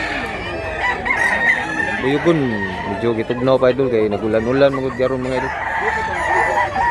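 Roosters crow repeatedly and hens cluck in a busy chicken market at Mantalungon, Cebu, with someone talking over the birds in the foreground.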